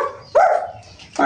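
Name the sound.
puppeteer imitating a dog barking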